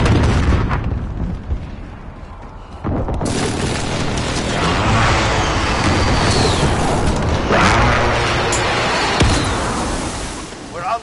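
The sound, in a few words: airstrike explosions in Call of Duty: Modern Warfare, video game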